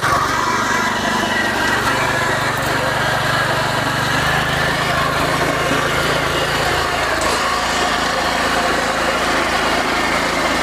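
A 9.5 HP back rotary tiller runs in low gear, its engine droning steadily and loudly throughout with a rough, even mechanical rumble and no pauses.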